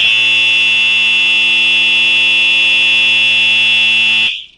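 A Simplex 4903 fire alarm sounds continuously as a loud, piercing electronic buzz holding a steady tone for over four seconds before cutting off abruptly.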